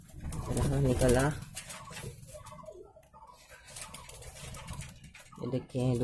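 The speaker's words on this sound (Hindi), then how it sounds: "ये देखिए दूसरा कबूतर" Low, throaty cooing of a white desi pigeon in soft repeated phrases, heard close by with a person talking over and between the calls.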